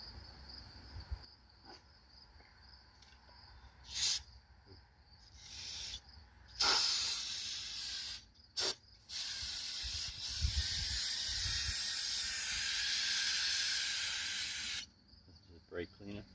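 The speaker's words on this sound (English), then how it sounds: "is just brake cleaner. Clean it up with it." Brake cleaner sprayed from an aerosol can onto a truck body during home bodywork: several short hissing bursts, then a long continuous loud spray of about four seconds, close to the listener over faint background noise.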